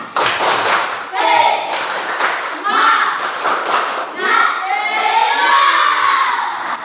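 Children at school clap in a patterned rhythm while shouting along in unison in Indonesian, with several bursts of claps and voices up close.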